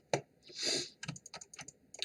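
Computer keyboard keys are pressed while keyframing in animation software, a few sharp close clicks spread unevenly with a short rustling swell between them.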